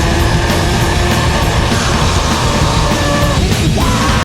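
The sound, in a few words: imitating Billy Corgan's screaming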